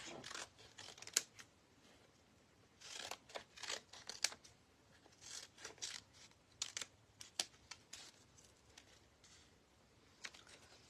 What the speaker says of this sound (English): I just want to cut up my labels first.